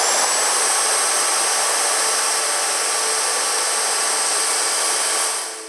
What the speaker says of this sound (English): Take the circular saw again, hold the end of that. Perfect. And I will cut this little angle.